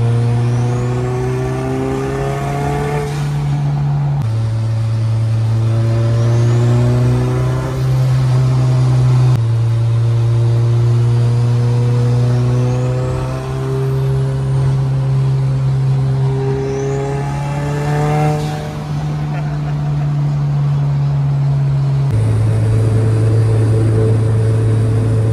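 Cars pulling hard in a fourth-gear roll race from 50 at an import car meet, engines droning and climbing in pitch through long sustained accelerations, with gear changes breaking the sweep every few seconds, loud and close.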